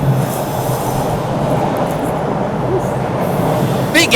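Subway train in a station, a steady loud rumble of cars with faint wheel squeals near the end; voices murmur in the background.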